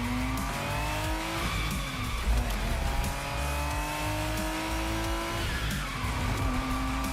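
A Ferrari Testarossa driving in the racing game The Crew Motorfest, engine droning steadily with rising and falling revs and tires squealing through corners, loud and continuous throughout.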